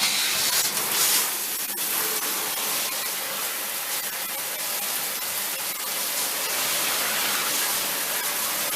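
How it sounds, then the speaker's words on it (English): A steady, hissing rush of running hot water sprays continuously against a bathtub surface while rinsing it, loud and close, with no pauses. "He's going to rinse one more time."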